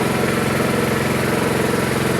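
A small water pump engine runs steadily at idle, a continuous low chugging hum with even rhythmic pulses, close by and alone.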